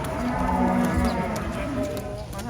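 A cow moos in a long, low drawn-out call, close and fairly loud, with some outdoor background noise.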